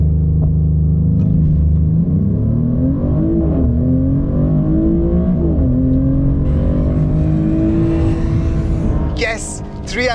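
A Maserati GranTurismo Trofeo with a twin-turbo V6 accelerates hard from 0 to 100 km/h, its engine note climbing steadily through the gears with brief dips at each shift. The sound is loud and close, with a voice speaking over it.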